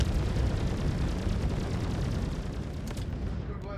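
Ship guns firing at a fighter in a space combat video game, a dense, continuous rumble of rapid blasts and booming fire that stays loud and heavy throughout the short burst.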